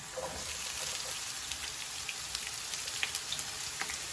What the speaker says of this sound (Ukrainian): І підсмажимо до золотистості в общем.